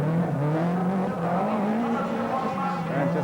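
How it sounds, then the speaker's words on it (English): A 4-cylinder 16-valve rally car engine racing hard at the 1990 Race of Champions, a loud, close, rising and falling tonal whine that barks continuously throughout. "Hear that 4-cylinder 16-valve engine barking away."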